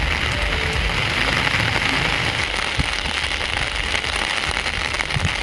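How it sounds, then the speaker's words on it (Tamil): Heavy rain pours in Tiruvarur, Tamil Nadu, a loud, dense and unbroken hiss of drops hitting surfaces close by, with no clear thunder clap standing out. "1 மணி நேரத்திற்கு மேலாக இடியுடன் கனமழை பெய்தது"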